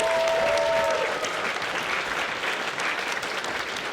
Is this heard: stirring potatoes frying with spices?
no